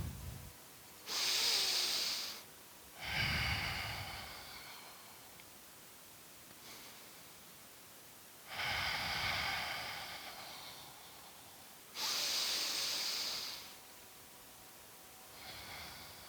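Deep, slow breaths during a beginner yoga session, several long hissing inhales and exhales spaced a few seconds apart, close and soft against a quiet room.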